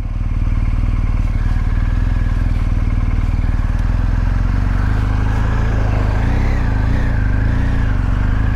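A 2023 BMW R 1250 GS Adventure motorcycle is ridden, its engine giving a loud, steady, throbbing pulse close by, with wind rush and a brief shift in pitch as it changes speed near the end.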